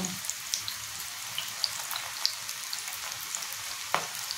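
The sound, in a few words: onion and cashew pakodi frying in oil on medium flame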